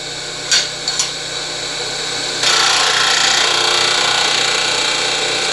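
A disc sander chamfers the edge of a metal part held in a jig. A couple of short contacts come first, then a steady, loud broadband grinding hiss that continues to the end.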